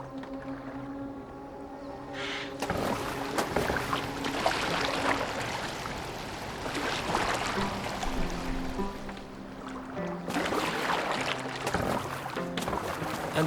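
A Viking longboat gliding over water in Assassin's Creed Valhalla, with the steady wash of the hull and splashing oar strokes under a low creaking hum, swelling in bursts at a moderate distance.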